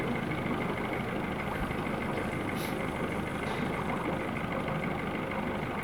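A 2018 Yamaha 115hp four-stroke V MAX SHO 1.8L tiller outboard warming up at idle, a steady, even, broadband engine drone throughout, close and unchanging.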